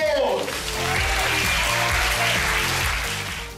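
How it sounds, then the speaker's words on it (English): Audience applause for the 2016 UCT Upstarts entrepreneurs at an evening event, steady dense clapping filling the room throughout with music or crowd noise underneath. "let's give our Upstarts for 2016 a round of applause"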